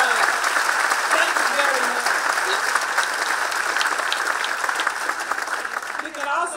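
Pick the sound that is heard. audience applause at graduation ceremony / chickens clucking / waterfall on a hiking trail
audience applause at graduation ceremony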